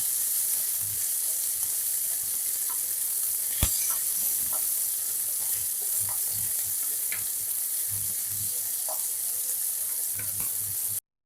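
Chopped capsicum and mixed vegetables with salt sizzle steadily in a pan for mixed fried rice, a continuous close frying hiss with occasional stirring clinks and one sharp knock.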